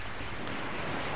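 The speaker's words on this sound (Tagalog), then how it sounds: "nandito tayo sa baybaying dagat" Sea waves wash steadily onto a beach shore on a morning walk, a constant broad roar mixed with wind buffeting the microphone, close and fairly loud, with no speech.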